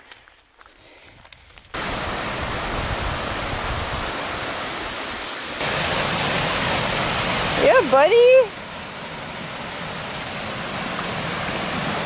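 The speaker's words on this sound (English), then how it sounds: "I brought you to a waterfall and a nice swimming hole." A waterfall beside a swimming hole pours as a loud, steady broadband rush that starts abruptly and runs continuously. A voice speaks briefly over it.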